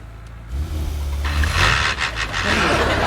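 A car's engine rises from a quiet idle into a loud, steady revving as the clutch is pushed in and the car is put into gear. The revving fills the rest of the moment, close by.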